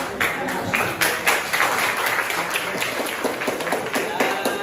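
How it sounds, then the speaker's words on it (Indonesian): Audience applause for the first group of presenters in a teaching-practice classroom, a steady wash of hand claps sustained throughout, moderately close and fairly even in loudness. "Untuk itu aplaus untuk kelompok yang pertama"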